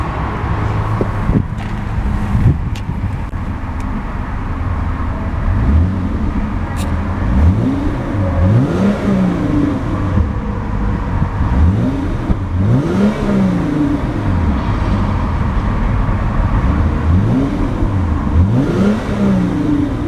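A 2014 Hyundai Genesis Coupe 3.8 Ultimate's 3.8-liter V6 is revved repeatedly, each rise and fall of engine pitch sweeping up and back down over a steady idle, loud and close, with no talking.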